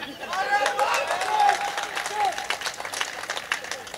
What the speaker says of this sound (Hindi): अगर सहमत हो वही लोग ताली बजाएं